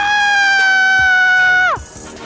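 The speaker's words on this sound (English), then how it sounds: "So you see, I just screamed." A single loud, sustained scream from a person outdoors on a street, a high tonal shriek held steady for nearly two seconds before breaking off sharply, with faint background street noise after.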